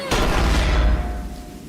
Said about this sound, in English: Smash padlock.